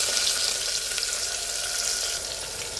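Garlic, curry leaves, dried red chillies and a large onion fry in a pan with a continuous, even hiss of hot oil, close and fairly quiet, without speech.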